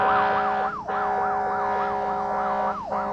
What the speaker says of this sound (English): As we rolled and hit the siren,